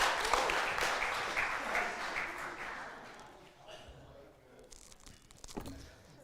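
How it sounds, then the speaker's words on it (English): An audience applauds a violinist, dense clapping that starts strong and gradually thins and fades, with a few scattered claps and rustles near the end. "Give Dan a round of applause."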